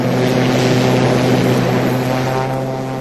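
Propeller-driven fixed-wing aircraft on its takeoff run, giving a loud, steady engine drone with a strong propeller hum that holds throughout and eases slightly near the end, with no talk.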